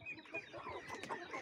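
Chickens and small chicks clucking and cheeping inside a farmyard coop, a busy overlapping chatter of short calls, close and moderately quiet, with no talking.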